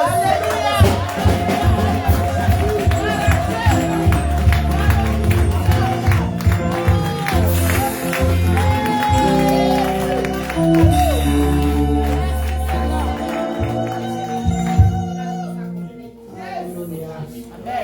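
A congregation at a prayer vigil in Baltimore claps and cheers over loud music, with a continuous dense roar of crowd acclaim and applause and voices mixed in throughout.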